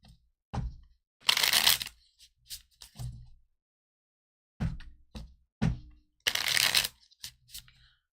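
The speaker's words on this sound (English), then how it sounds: "Let me shuffle and try that again, just in case." Tarot cards are shuffled in close, crisp bursts, rapid riffling flutters alternating with single taps and knocks as the deck is squared, separated by short silent pauses.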